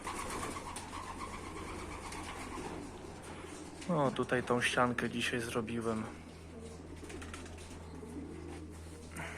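Pigeons coo in a loft, soft throaty calls rising into a clear burst midway, while someone talks nearby over a low steady hum.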